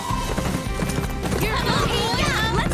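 Cartoon horses gallop back to the stable with quick, steady hoof clip-clops, joined by whinnies and lively background music, while a voice speaks over them.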